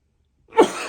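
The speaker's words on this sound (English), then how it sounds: "And then I'm going to sneeze." A single sudden sneeze bursts out after a moment of silence, close and fairly loud, trailing off into breathy noise.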